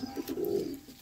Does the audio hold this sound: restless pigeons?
yes